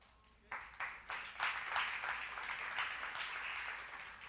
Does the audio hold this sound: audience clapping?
yes